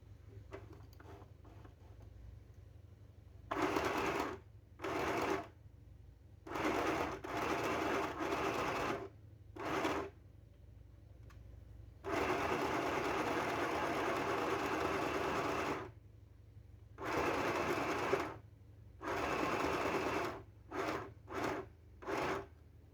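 A sewing machine stitches fabric for a cloth bow in repeated bursts of steady whirring, some long and some short, separated by quiet pauses. The sound is close and moderately loud.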